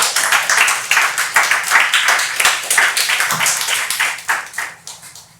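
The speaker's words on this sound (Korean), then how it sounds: "박수 확실히 치세요." A church congregation clapping together during a sermon, with loud, close, fairly even rhythmic hand claps that fill the room for several seconds and no talking.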